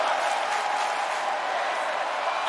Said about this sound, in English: The crowd started "This is awesome" chant